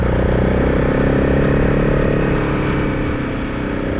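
A motorcycle on an enduro ride on a Norwegian trail, its engine loud and close with a steady droning rumble that eases slightly toward the end as the throttle is rolled off.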